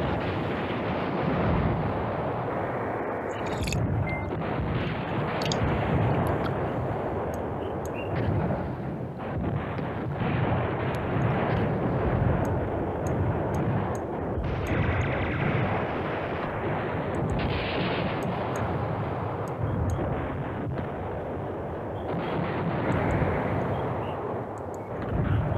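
Artillery and bomb blasts in the wartime strategy game Command Ops 2, set at Manhay Crossroads, form a loud, continuous rumble of overlapping booms and bursts that runs unbroken for the whole stretch with no talk.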